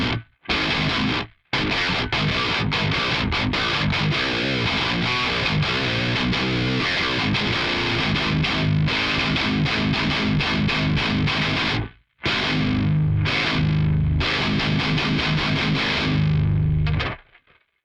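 A seven-string electric guitar on the bridge pickup runs through an Axe 3 distortion patch, playing tight, heavily saturated riffs. The chugging is loud and close and continues for most of the passage, with brief pauses and a ringing stop at the end.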